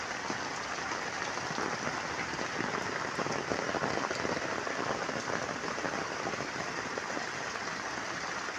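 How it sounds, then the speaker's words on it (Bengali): Rain drums steadily on a village road as rainwater flows across it, a dense, even hiss of pattering drops that continues unbroken and alone. "রাস্তার উপর দিয়ে পানি প্রবাহিত হচ্ছে"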